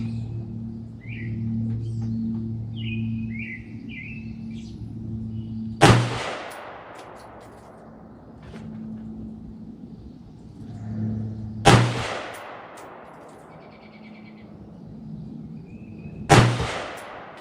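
Three AR-15 rifle shots firing PMC Bronze ammunition ring out at a range, each a sharp crack with a ringing tail, spaced about six and five seconds apart, over a low engine-like hum and faint birdsong.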